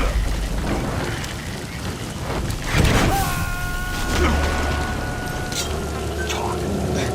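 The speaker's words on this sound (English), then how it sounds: "Sound of rainfall should help to mask your footsteps." Rainfall in the video game Metal Gear Solid V: steady broadband hiss of rain throughout, with a low rumble near three seconds and brief tonal game sounds layered over it.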